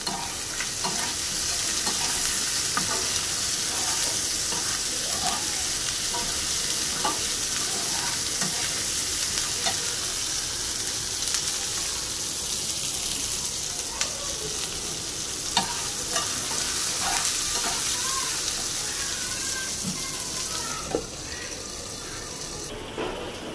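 Curry sizzles and fries in a pan, a steady hiss with scattered clinks and scrapes of a spoon stirring, running continuously at a fairly close, moderate level.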